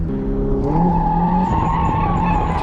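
A car drifting on tires run at reduced pressure gives a loud, continuous skid and tire squeal over a steady engine drone, lasting the whole stretch with no talking.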